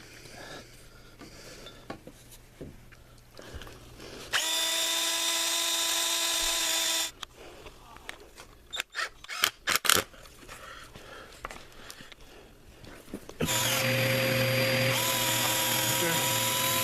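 A power drill whines loudly in two sustained runs of a few seconds each, with clattering and handling noises in the pause between.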